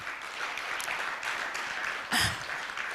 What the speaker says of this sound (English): Can we give another big clap?